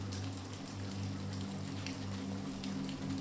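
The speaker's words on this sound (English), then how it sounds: "The sounds of the rain padding on the sill" Rain pads softly and steadily on a window sill on a rainy night, a quiet continuous patter with a faint low hum beneath and no voices.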